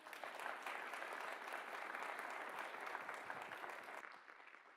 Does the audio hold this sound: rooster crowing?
no